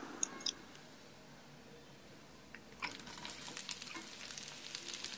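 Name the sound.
bay leaf frying in hot oil in a pan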